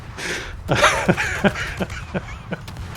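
Rapid ship gunfire from World of Warships, sharp shots landing at a steady, quick rhythm about every third of a second over a rumbling background.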